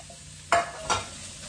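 Chopped onion drops into oil where garlic is already frying, giving two quick bursts of loud crackling sizzle over a quiet steady hiss, close up with no talk.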